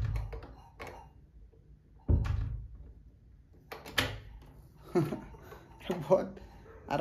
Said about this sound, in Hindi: दरवाज़ा कैसे खुलता है।